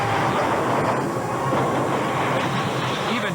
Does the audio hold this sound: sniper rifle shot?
no